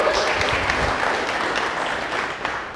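Audience at a real estate investors' meetup applauds as a speaker is introduced, a steady wash of close clapping that slowly eases over a few seconds.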